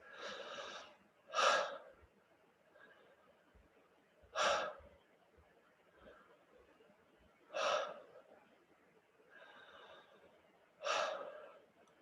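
Connective breathwork with a lengthened in-breath: four strong, sharp inhales arrive at a steady rhythm every few seconds, each followed by a softer, longer release, close and intimate with no talking.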